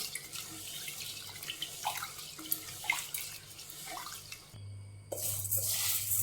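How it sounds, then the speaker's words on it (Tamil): Roasted pearl millet grains are washed in water, with splashing, sloshing and trickling from a running tap in a sink, close by, pausing briefly before the water resumes more strongly. "வறுத்துட்டு இந்த மாதிரி நல்லா ரெண்டு வாட்டி நல்லா கழுவிக்கலாம்"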